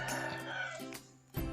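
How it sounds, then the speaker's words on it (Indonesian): A chicken rooster gives a short, fairly faint crow with sustained tonal calls and a few sharp clucks, heard alone over quiet background. "Ayam adalah unggas yang biasa dipelihara orang untuk diambil telurnya."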